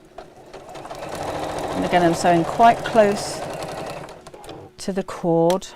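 A domestic sewing machine stitches fabric for a chair cushion in short whirring bursts, close and loud, while someone talks over the running motor.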